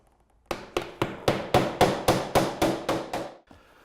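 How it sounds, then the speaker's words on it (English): Hammer driving nails into a fascia board while fitting eaves ventilation trays: ten sharp, loud strikes fall in an even, brisk rhythm, each ringing briefly before the next, then the hammering stops. "we'll fix the nails in all the way across to the end of the piece"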